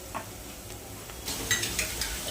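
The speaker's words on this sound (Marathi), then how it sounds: "चला तर कांदे आपण चांगले फ्राय करून घेऊया लाल होईपर्यंत." Finely chopped onions frying in hot oil in a pan until reddish, a soft steady sizzle broken by a few scraping stirs toward the end.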